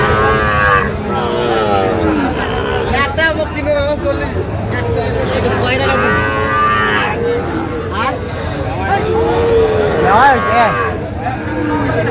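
Young bull calves lowing repeatedly at a crowded cattle market, loud moos rising over a steady hubbub of buyers and sellers bargaining nearby.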